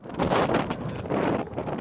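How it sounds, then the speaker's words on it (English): Strong gusts of wind at a Sunday league football match buffet the microphone in heavy, rumbling waves, loud and continuous with no voices. "it's bloody windy"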